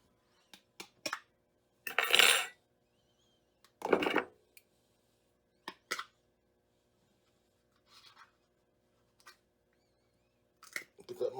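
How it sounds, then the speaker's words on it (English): Fork scraping and clinking against noodles in a bowl, several short scattered bursts of metallic rattle separated by quiet gaps, with someone talking between them. "Need a fork. Stir it around anyways."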